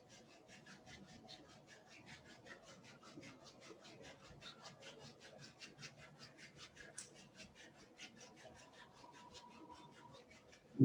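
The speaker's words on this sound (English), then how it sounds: "now let's just rub the hands again." Hands rubbed together briskly, a steady rhythmic swishing of skin against skin repeated many times at an even pace, close and soft, with no talking.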